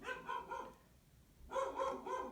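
A dog barks in a quick run of several mid-distance barks, falls quiet for a moment, then barks again in another rapid series.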